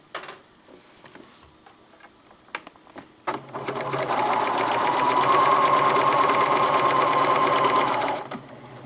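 A sewing machine stitches through a quilt, starting after a few seconds of soft handling clicks and rustles, then running as a loud, steady, rapid mechanical whir for about five seconds before stopping.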